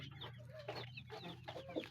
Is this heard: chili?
no